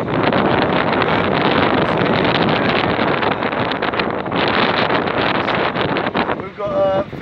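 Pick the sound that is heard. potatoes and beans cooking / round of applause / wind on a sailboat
wind on a sailboat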